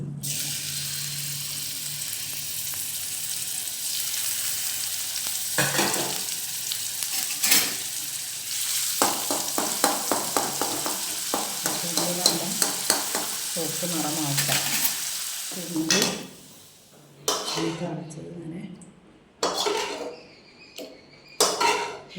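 Crushed onion frying in hot coconut oil in a pan for a Kerala-style mackerel dish, a steady loud sizzle broken by scraping stirs and clatters of the spoon, then pauses and short bursts near the end.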